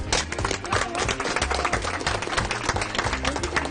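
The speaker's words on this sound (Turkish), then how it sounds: "Arkadaşlar alkışlıyoruz." A crowded studio audience on a Turkish talk show applauds with dense, energetic clapping, while music with a low, thumping beat plays underneath.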